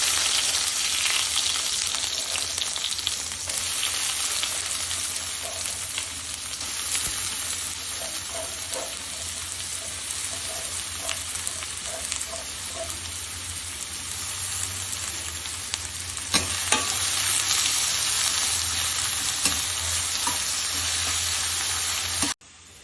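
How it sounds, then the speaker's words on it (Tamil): Onions sizzle and fry steadily in oil with cinnamon, clove, cardamom and bay leaf for a mutton curry, a continuous close hiss with occasional stirring scrapes and pops, no talking. "வெங்காயம் நல்லா வதங்கிருச்சு."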